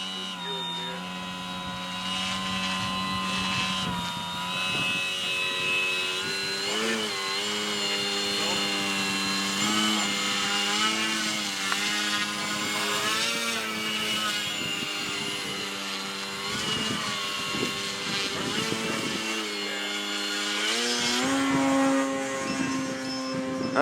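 A Bavarian Demon Cortex RC model airplane hovers Harrier-style, its electric motor giving a loud, sustained whine that rises and falls in pitch as the throttle changes, with a voice talking over it.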